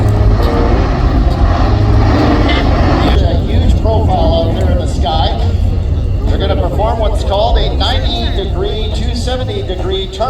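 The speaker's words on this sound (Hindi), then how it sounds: "मेरे पीछे C-17 लैंड करने के लिए आ रहा है." A C-17 cargo aircraft comes in to land at an air show in British Columbia, its engines roaring loudly and steadily throughout, with someone talking over the noise.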